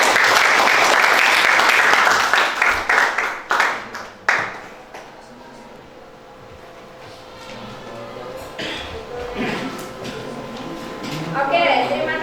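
A classroom of students claps together in loud, dense applause that tapers off after a few seconds, followed by quieter room noise, scattered taps and a short renewed patter.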